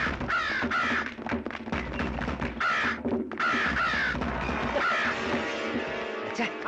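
Crows caw repeatedly near a house in a Tamil village setting, several harsh calls in quick succession, loud and close, with people talking and other background noise mixed in.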